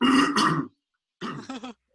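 A throat clearing, a couple of rough, guttural rasps up close, followed by a brief pause and a second short burst of throaty noise.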